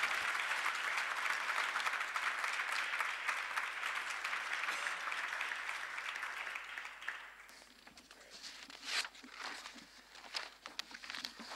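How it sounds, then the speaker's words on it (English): Sustained audience applause at a formal morning session on migration and the post-2015 agenda, steady and dense for about seven seconds before thinning into scattered claps and a few faint voices. "One more round of applause, please."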